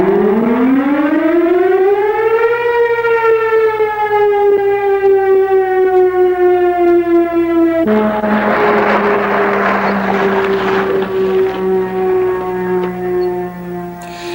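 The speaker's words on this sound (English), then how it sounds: "That sound is the alarm calling volunteer firemen to their stations." A loud volunteer fire station alarm siren, calling volunteer firemen in Maryland, winds up, then wails at a sustained pitch with a slight waver, the tone shifting partway through; no talking.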